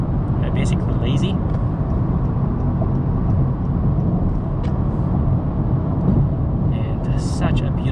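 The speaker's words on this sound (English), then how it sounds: "Good amount of wind noise from this area right here" Steady broadband wind and road roar inside a moving 2022 Honda Insight sedan in eco mode, constant and loud, with faint brief interior clicks.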